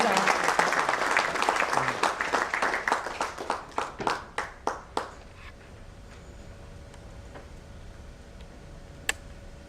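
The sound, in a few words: audience giving a huge round of applause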